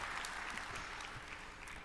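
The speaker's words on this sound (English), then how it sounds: "Did someone accidentally turn the piped-in crowd sound effect too high?" Piped-in stadium crowd applause and cheering played over a sports broadcast, a steady dense roar of clapping throughout, fairly faint and uniform with no voices standing out.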